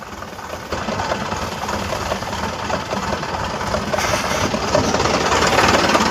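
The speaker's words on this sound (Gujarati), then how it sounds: "હાલ ટ્રેક્ટર બંધ કરી નાખું" A tractor engine idles in a chili field where pesticide spraying is under way, a steady rumbling drone that grows gradually louder and more forceful toward the end, with no voices.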